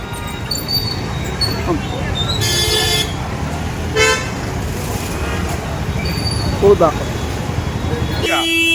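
Road traffic jammed on Bajirao Road in Pune, with engines rumbling steadily and several car horns honking in short and longer blasts, some near and loud, while people talk over the din.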